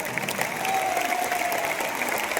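Hearty audience clapping at a Hindi-language event, a dense, continuous burst of applause filling the short moment.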